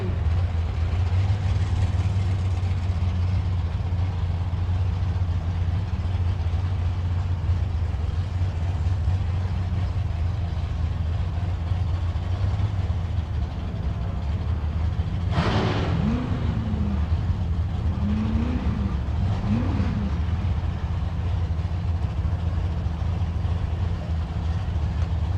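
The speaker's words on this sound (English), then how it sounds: "Red Camaro, 700 plus cubic inches, naturally aspirated Goodwin Hemi" Red Camaro drag car with a naturally aspirated 700-plus cubic inch Goodwin Hemi, a deep loud rumbling idle sustained throughout, with a brief sharper burst of revving midway at a drag strip.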